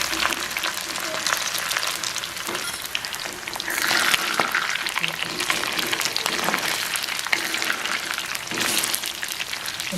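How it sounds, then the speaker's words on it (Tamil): Cuttlefish pieces deep-frying in hot oil, a steady, dense crackling sizzle that continues loud and close for the whole stretch, with occasional stirring. "வாங்கோ எண்ணெய் காய்ஞ்சிட்டு இப்போ பொரிப்போம்."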